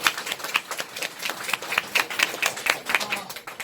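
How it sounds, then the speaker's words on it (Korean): Audience clapping at a Nu Skin charity talk in Korea, a moderate, uneven patter of hands with sharper individual claps standing out, steady throughout without voices over it. "박수 한번 주세요."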